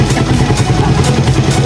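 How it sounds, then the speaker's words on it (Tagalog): A Honda Raider 150 carbureted motorcycle engine runs steadily at close range, a continuous low rumble with fast mechanical clatter and light tappet ticking throughout, no voices. "Mao to nga ang tingog sa motor kung inyong paminawan"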